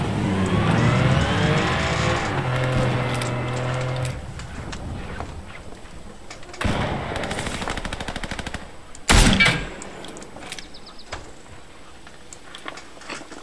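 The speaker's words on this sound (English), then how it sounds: "And I hear gunshots." Gunfire in the video game Fortnite cracks out as a few sharp bursts, one loud shot standing out near the end, mixed with a car engine revving and passing in the game.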